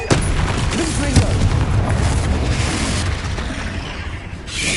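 A Confringo explosive spell goes off in Hogwarts Legacy with a heavy booming blast, followed by rumbling bursts and crackling pops that fill the rest of the moment.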